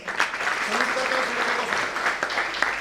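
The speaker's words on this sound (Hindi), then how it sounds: "जुनेद जी के लिए जोरदार तालियां सर" Loud, dense applause rises from an audience at a business achievers' event, continuous clapping close and full throughout, with a few voices faintly mixed into the crowd.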